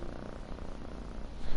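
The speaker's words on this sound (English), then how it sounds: "Oh, look at you, just purring the storm." Steady low purr from a cat in the video game Genshin Impact, close and continuous with a soft rumbling texture, swelling slightly louder near the end, with no talking over it.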